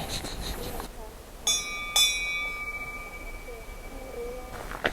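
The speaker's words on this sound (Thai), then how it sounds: "มีกระดิ่งให้ไล่หมีเป็นจุดๆเลยครับ" A hand-rung bear bell along a forest trail beside a river in Kamikochi, Japan, struck twice in quick succession, each strike ringing out with a bright, lingering metallic tone over quiet outdoor ambience.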